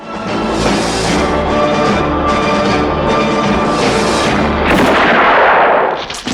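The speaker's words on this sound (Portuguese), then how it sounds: "E quando os tiros finalmente ecoam" A loud, dramatic orchestral score by Ennio Morricone from the 1966 film The Good, the Bad and the Ugly swells with sustained tones, then a sharp blast of gunfire bursts out near the end.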